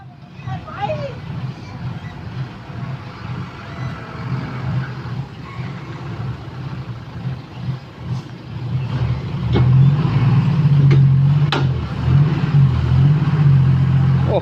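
A heavy dump truck engine labours and revs loudly while straining to pull free from mud, the drone swelling and surging toward the end, with voices talking over it.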